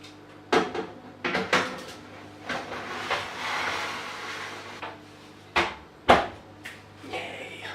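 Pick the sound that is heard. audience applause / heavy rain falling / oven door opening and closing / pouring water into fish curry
oven door opening and closing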